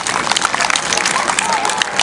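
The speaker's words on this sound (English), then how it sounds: "You can clap for Earth." A school audience of children and adults at an elementary school Autism Awareness Day assembly claps, a dense, even patter of many hands filling the room throughout.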